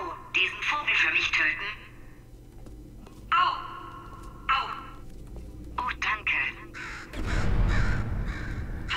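Harsh crow-like caws from a bird in Portal 2 come in several short bursts, alternating with a voice speaking German, before a louder noisy rumble near the end.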